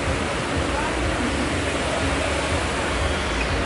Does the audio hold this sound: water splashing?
yes